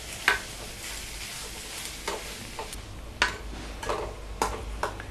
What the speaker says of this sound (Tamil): இப்போ சிம்மில் வச்சுட்டு நல்லா வதக்கிக்கோங்க.